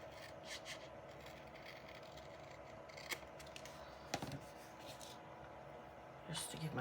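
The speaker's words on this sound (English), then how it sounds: "I think I'm going to trim this off a little bit" Scissors trim paper in a handful of quick, crisp snips with rustling between cuts, close and fairly quiet.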